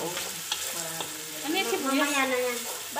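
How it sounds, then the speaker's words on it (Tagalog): Chicken pieces sauté in a hot pan for Filipino adobo, a faint steady sizzle with stirring scrapes, under a person talking nearby. "Gigisa ang chicken."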